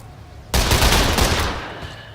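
A short, loud burst of multiple-bullet gunfire in the tactical game Lamplighter's League, starting abruptly after a quiet moment, rattling for about a second, then fading into a brief echoing tail.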